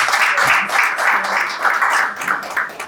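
Applause from an audience at a business forum welcoming a speaker, a steady wash of many hands clapping close and loud throughout, with no voices on top.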